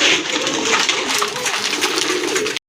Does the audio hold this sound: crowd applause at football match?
no